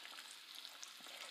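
Fish sticks frying in a pan, a steady close hiss and sizzle of hot oil with small crackling pops throughout, no voices.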